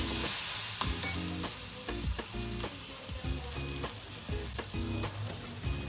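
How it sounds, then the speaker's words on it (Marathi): Spices with asafoetida and kasuri methi frying in a pan for a kachori filling, a constant close sizzle with repeated stirring scrapes and clinks throughout. "हे छान फ्राय करून घ्यायचं"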